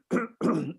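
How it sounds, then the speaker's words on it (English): Two harsh coughs in quick succession, close and fairly loud, from an old royal recorder squinting over yellow, dusty pages in a room. "Squinting and coughing."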